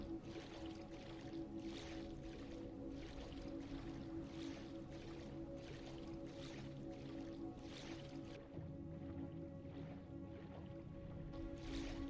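A character wading through water in the game Tainted Grail: The Fall of Avalon, rhythmic sloshing splashes repeating every second or so under a constant low ambient drone and music, fairly quiet, with no talk.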